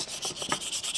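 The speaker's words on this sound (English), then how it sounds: "I'm just going to go over with this sandpaper for a bit and see" Sandpaper rubbed over a Motobecane Mobylette X7 moped frame where stickers were removed, quick rhythmic back-and-forth scratchy strokes, about five passes in a second, close and dry.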